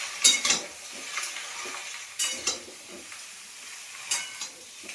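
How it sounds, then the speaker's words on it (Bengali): Potatoes and other food are stirred in a pan with a metal spoon, making intermittent scrapes and clinks against the pan over a low sizzle, close by and with no talk. "দিয়ে একটু ভালো করে নেড়ে নেব।"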